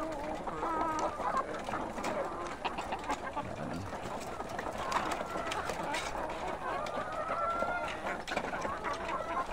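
Layer chickens cluck and chatter continuously at a moderate distance on a farm, with other birds mixed into the steady background.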